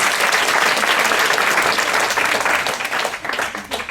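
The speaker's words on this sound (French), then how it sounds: "c'est très fréquent que je demande d'applaudir les personnes qui viennent avec moi sur scène" A theatre audience at a stage show applauds loudly and densely, the clapping close and full before thinning slightly toward the end.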